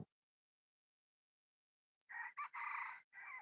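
A red junglefowl crows once after two seconds of silence, a loud, close call broken into several segments.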